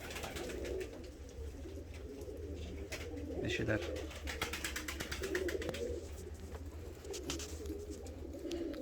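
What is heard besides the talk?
fancy pigeons cooing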